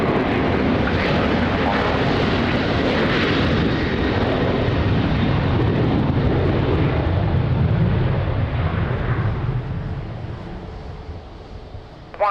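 A fixed-wing airliner lands on runway 20 at Lisbon Airport in a crosswind, its engines a loud, sustained roar that fills the scene and eases off slightly near the end.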